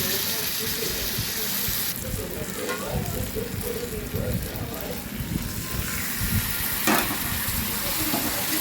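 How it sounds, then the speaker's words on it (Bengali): Mutton pieces hit fried spice masala in a hot pan, giving a loud, continuous sizzle with crackling and stirring scrapes that carries on steadily throughout. "এরপর এখানে মাংসটা অ্যাড করে দিচ্ছি।"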